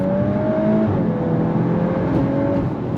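A VW Golf R with an automatic gearbox accelerating hard from a roll, its engine droning loud and steady as the transmission downshifts and the pitch climbs, heard from inside the car with no talking.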